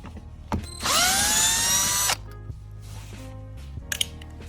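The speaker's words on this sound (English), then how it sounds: "Then you want to take these screws out on the plastic." A power driver fitted with a T20 Torx bit whirs in one rising burst of a little over a second, backing a screw out of plastic trim on a Ford F-150 crew cab truck seat, followed by faint clicks and handling.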